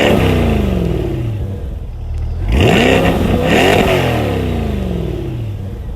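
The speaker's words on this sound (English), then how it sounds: "My test car also has the optional performance exhaust." A 2020 Chevrolet C8 Corvette Stingray's LT2 V8 with optional performance exhaust idles with a deep burble, then blips sharply twice with a throaty exhaust roar before settling back to a rumbling idle.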